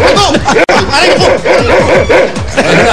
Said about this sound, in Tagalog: Eh, may aso dyan, oh.